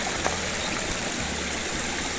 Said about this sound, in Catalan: aquest és el riu que conflueixen tots els torrentets d'aquesta zona, molt a prop de Bagà